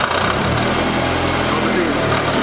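A SAAB aircraft engine idles close by with a rough, continuous drone and vibration, unchanging throughout.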